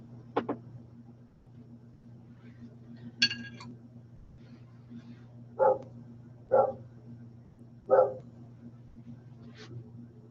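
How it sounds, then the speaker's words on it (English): A dog barks several times in the background of a quiet room, with sharp, separate woofs spaced a second or two apart, moderately distant, over a low steady hum. "There goes the dog again."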